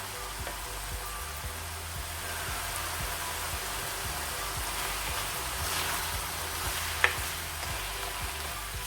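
Minced meat qeema fries and is stirred in a pan in its own fat, a steady close sizzle with faint rhythmic scraping and one brief clink, with no voices.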